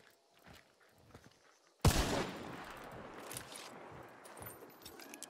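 Gunfire in a multiplayer shooter game: a sudden loud burst of shots breaks a quiet stretch of soft footstep-like clicks, followed by a sustained rattling, noisy wash of further firing and movement.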